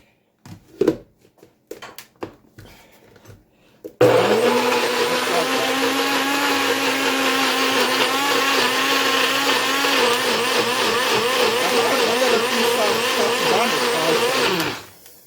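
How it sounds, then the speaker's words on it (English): A blender roars to life after a few clicks and handling noises, running steadily and loudly for about ten seconds before cutting off. "So we're just gonna cover this up and blend away."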